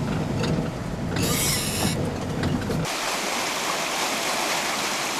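A full river in Alaska, near Rats Creek and Rats Harbor, rushes as a steady broadband wash of water, with wind and boat-like rumble early on, then a constant bright hiss of flowing water to the end.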